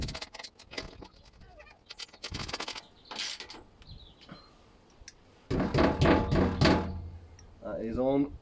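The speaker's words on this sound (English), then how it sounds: "I'll use a spanner for this just because there's not a whole lot of room on the front." A spanner ratchets and clunks while tightening bolts on a steel sump guard under the front of a Freelander 1, with metallic clicks and thuds broken up by someone talking in between.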